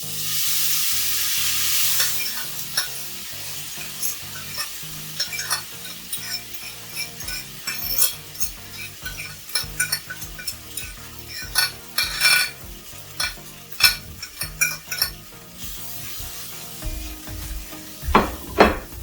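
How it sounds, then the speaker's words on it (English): Tofu crumbles fry in a curry scramble, sizzling steadily in the pan while a utensil scrapes and stirs in frequent irregular strokes, close up and with no talking. "I'm gonna bring up the heat to almost medium, and I'm gonna add my tofu crumbles."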